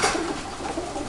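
Pigeon cock birds from a stock loft cooing close by, a few soft low coos in quick succession.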